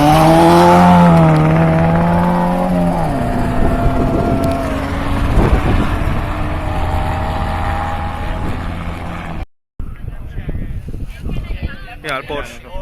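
A Porsche rally car with a four-cylinder engine passing at a rallysprint, its engine note rising and falling through gear changes as it goes by loud and close, then fading into distant engine noise.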